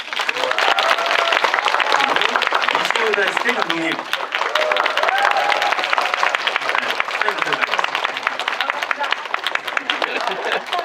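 Sustained audience applause at a film screening Q&A in Korea fills the whole stretch, dense and steady, with an amplified voice speaking over the clapping.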